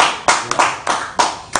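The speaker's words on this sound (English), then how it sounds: "Everybody's clapping for you here." An audience at a Nigerian political town-hall event claps in a few sharp, separate bursts, loud and close, each clap decaying quickly.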